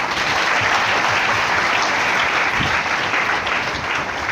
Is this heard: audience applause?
yes